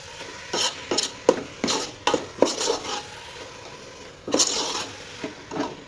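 A thickening coconut filling for holige is stirred in a pan over a low flame, a series of soft, close scrapes and taps in short uneven bursts with quiet gaps between.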